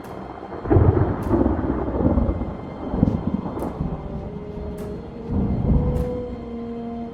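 A thunderstorm with rain pouring steadily and thunder rumbling in several low rolls, some near and heavy, beneath occasional sharp cracks and drips, with no one speaking.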